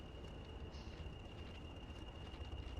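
A train rumbles steadily through the WCML Crewe–Preston route in Train Sim, a continuous low rolling noise with a sustained whine over it and no clear peaks.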